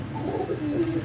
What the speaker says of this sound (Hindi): माशाल्लाह क्या कबूतर है व्यूअर्स